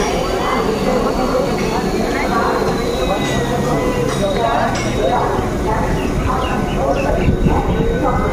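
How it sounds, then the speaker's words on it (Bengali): A Howrah–Katwa local train pulls out of a station platform on a cloudy day, a loud continuous rumble with metallic clinks and clatter of the carriages, voices mixed in. "ট্রেন ছেড়েও দিল।"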